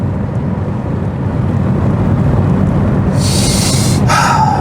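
Rover 400 Tourer engine revved hard after long idling, a steady loud drone throughout with sharper bursts of revving near the end.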